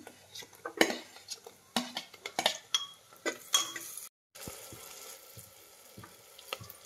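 Chopped tomatoes sautéed with browned onion in a pan for a whole masoor dal dish: a spatula scrapes and clinks against the pan in irregular strokes over a soft, steady sizzle, close by, with a brief dropout midway.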